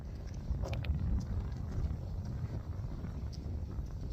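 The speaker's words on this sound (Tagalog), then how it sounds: "It's very windy." Gusting wind buffets the microphone on a cold, snowy February walk outdoors, a steady low rumble that swells slightly and stays constant throughout, with no voices.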